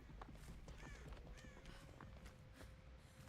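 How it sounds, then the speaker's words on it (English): Crows caw repeatedly in the Dead by Daylight video game, several harsh calls over a busy, muffled background of game noise and faint footsteps, at low level. "Is that a killer or survivor crows?"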